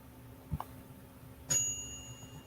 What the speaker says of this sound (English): Oh, the bell went off.